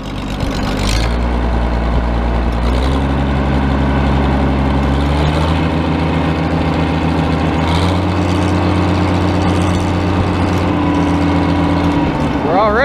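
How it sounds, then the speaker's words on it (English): A finicky sprayer pump runs while it is being primed, giving a loud, steady engine drone with a deep low hum that carries on without a break for the whole stretch, close to the listener. "This pump is the most finicky thing you'll ever see when it comes to priming up."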